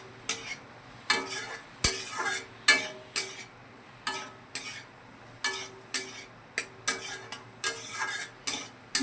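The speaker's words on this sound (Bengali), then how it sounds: "মাশরুমটাকে মশলার সাথে খুব ভালো করে কষিয়ে নেব" Mushrooms stirred and fried with spices in a pan, a spoon scraping in steady repeated strokes about once a second under a soft background sizzle, close and with no talk.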